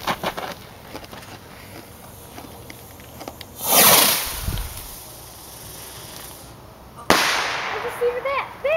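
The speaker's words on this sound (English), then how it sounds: "it sounds like somebody else is shooting. Somebody else is shooting them off." Fireworks going off outdoors before the Fourth of July: faint scattered distant pops, one loud hissing whoosh and burst midway, then another sharp crackling burst near the end, with people talking in the background.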